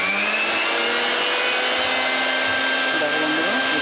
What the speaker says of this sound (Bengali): মিক্সচার মেশিন চলছে